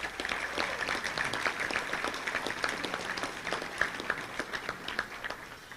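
An audience claps for the sponsors at a Little Rock Touchdown Club luncheon, a dense, steady round of applause lasting several seconds with no talk over it.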